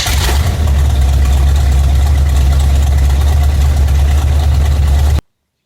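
A 350 Chevy V8 swapped into a Suzuki Sidekick runs at a steady idle, a loud, close, rumbling drone that continues evenly, then cuts off abruptly.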